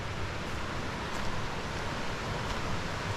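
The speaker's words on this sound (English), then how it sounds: "Is the noise of the waterfall" A waterfall roars as a steady, even wash of rushing water at a campsite by a trout stream, filling the whole clip with no voices.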